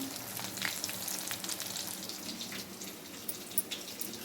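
Chicken pakoda pieces, half-cooked, frying in a pan of hot oil, giving a steady close sizzle with a few sharper pops and crackles scattered through it, with no voices.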